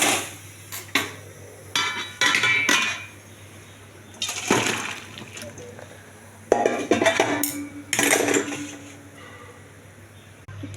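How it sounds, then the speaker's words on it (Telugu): Cooked cauliflower is tipped into a metal mesh strainer bowl, giving several bursts of clanking metal and splashing, draining water separated by short pauses over a steady kitchen hum. "ఇంకో జాలి గిన్నెలో వడకెట్టాలండి ఇది"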